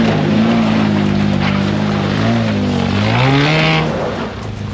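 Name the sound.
damaged car engine running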